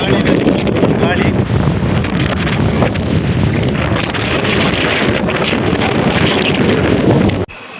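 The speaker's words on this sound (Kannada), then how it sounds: "ಗಾಳಿ ಇದೆ, ಗಾಳಿ." Strong wind buffets the microphone at a hill viewpoint near a temple, a loud, continuous roaring rush that holds steady throughout and drops away abruptly at the very end, with no clear speech.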